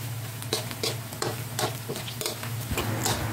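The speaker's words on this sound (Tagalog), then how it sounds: "Gigisahin ko lang ito hanggang maging golden brown para lumabas pa ang sariling mantika." Pork pieces sautéing in a pan with garlic and onion for binagoongan, frying until golden brown: a steady close sizzle with repeated scraping stir strokes about every half second and a low continuous hum underneath.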